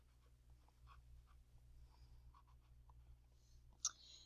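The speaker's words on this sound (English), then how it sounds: "on the left side of page 37, you're going to write the words functions" Pen writing on a paper journal page, faint intermittent scratchy strokes in short bursts, close and quiet over a low background hum, ending with a sharper tap.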